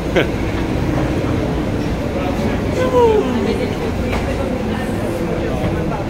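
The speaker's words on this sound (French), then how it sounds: "Magnifique, premier métro à Paris." Paris metro train rumbling through a station or tunnel, a steady loud mechanical roar with a brief squeal partway through, while voices talk over it.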